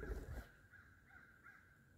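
A crow caws a few times, faint and at a distance, after a brief low rumble at the start, with no voices.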